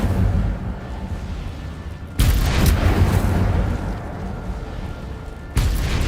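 An Incendio fire spell cast in Hogwarts Legacy bursts out as two loud, booming, explosive blasts over a rumbling low background, the second arriving a few seconds after the first.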